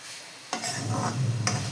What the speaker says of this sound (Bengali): তো ভাজতে থাকবো এটাকে, নাড়তে থাকবো যতক্ষণ না কালার